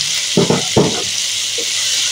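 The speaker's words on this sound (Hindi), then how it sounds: "अब मैं इसमें ये प्याज भी डाल दूंगी, इस प्याज को भी हम फ्राई कर लेंगे अच्छे से।" Onions dropped into a hot pan and frying, producing a constant loud sizzle broken by two or three quick thuds and scrapes as they go in and are stirred.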